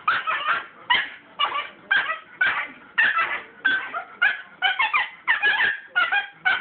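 A dog given a flashlight yips and barks in quick, regular bursts with short gaps between them, close and loud, with no other sound.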